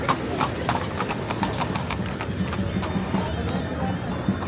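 Horse hooves clip-clopping steadily on the streets of Marrakesh, in a busy outdoor scene with people talking in the background.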